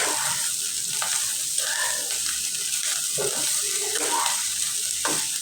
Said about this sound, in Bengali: এর মধ্যে এই চিড়াটা দিয়ে দেবো। আস্তে আস্তে করে নাড়বো।